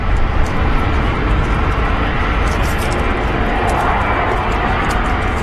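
A Boeing 747 at London Heathrow airport produces a loud, continuous jet roar that fills the whole stretch without a break.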